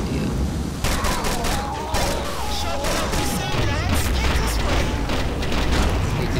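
MP7 gunfire in a video game, rapid automatic bursts layered with booms and combat noise, loud and continuous over several seconds.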